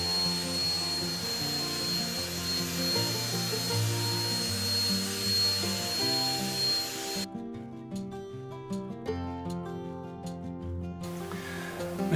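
A vacuum cleaner sucks up resin filler dust while work continues on an opening polytunnel light, a steady close whine and rumble that drops away midway, leaving quieter tonal noise, then returns near the end.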